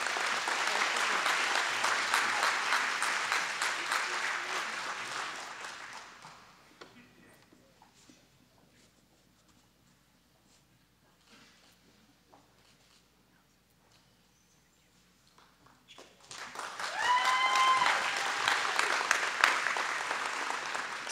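Hall of Fame induction ceremony audience breaks into loud, dense applause with cheers, fading to near-silence for about ten seconds before a second burst of clapping swells up again near the end.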